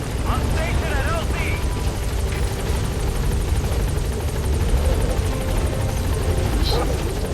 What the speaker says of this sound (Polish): Też mamy jakiś helikopter.